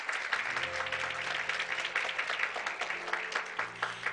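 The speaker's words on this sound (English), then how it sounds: "they deserve a round of applause" An audience at a gospel sing during a strawberry festival claps, a dense patter of many hands heard at moderate distance, with a voice speaking faintly underneath.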